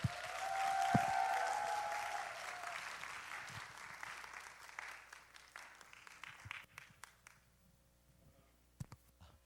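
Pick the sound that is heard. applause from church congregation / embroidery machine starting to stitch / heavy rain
applause from church congregation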